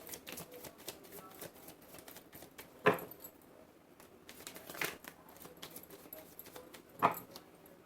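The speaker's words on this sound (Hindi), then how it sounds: "this is my last shuffle" Tarot cards are shuffled close by in a quiet room. Soft papery riffles and flicks repeat unevenly, with a couple of sharper slaps of the deck standing out.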